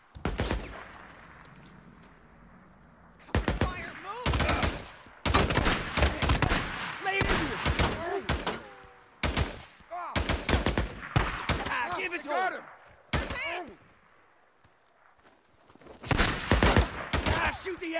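Rapid bursts of gunfire crack in a firefight in the video game Days Gone, coming in repeated loud volleys with brief pauses between them and voices shouting in between.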